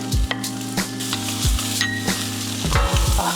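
Garlic fried rice with rotisserie chicken and sausage being stirred in a pan, a loud close sizzle broken by repeated scraping stirs and low knocks of the utensil.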